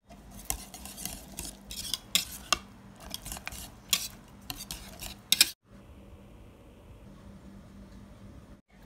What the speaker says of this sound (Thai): คนให้เขาเข้ากันนะคะ